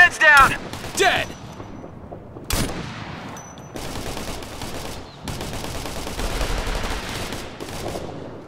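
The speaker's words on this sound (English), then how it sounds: "This is Alpha Team, we're under fire!" Gunfire in the video game Operation Flashpoint: Red River comes as loud close bursts of rifle and machine-gun shots, with sharp cracks early on and then sustained rattling fire, with shouted game voices in the mix.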